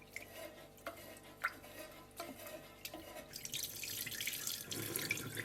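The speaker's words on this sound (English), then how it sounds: "drain the water, and I do this 2 to 3 times until the water runs pretty much clean" Sona Masuri rice is rinsed under a running tap, with scattered drips and stirring splashes at first, then a steadier, louder gush of water filling the pot, close by and with no speech.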